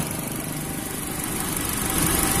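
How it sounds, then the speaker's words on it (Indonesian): A used car's engine idles steadily during a pre-purchase inspection, giving a continuous low rumble with a faint vibrating texture throughout, no talking over it. "Cuman kawan-kawan harus waspadai dari suara mesin ini."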